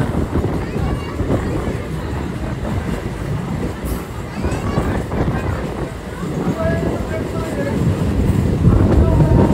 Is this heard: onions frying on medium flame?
no